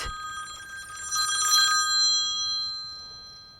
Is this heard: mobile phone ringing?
yes